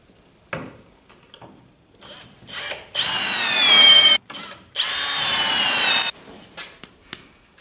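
A power drill drives screws into wooden sides, with two loud sustained whirring bursts of a second or more, separated and surrounded by short clicks, knocks and brief trigger pulses.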